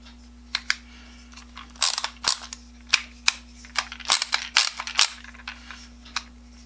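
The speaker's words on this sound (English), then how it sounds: "The ratchet's easy to adjust." Screwball ratcheting screwdriver from S V Tool Company having its ratchet adjusted, a run of sharp close clicks and snaps in irregular clusters.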